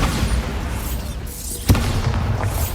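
A Bombarda spell explosion in the video game Hogwarts Legacy: one sharp blast near the middle that settles into a low rumbling tail over steady background ambience.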